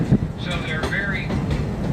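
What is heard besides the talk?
propane-powered Kings Island amusement park train running on track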